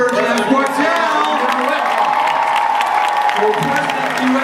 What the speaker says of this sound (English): Put your hands together, Jeff Wattel.